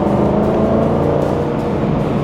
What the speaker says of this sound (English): I'm just tipping the gas a little bit and it goes well.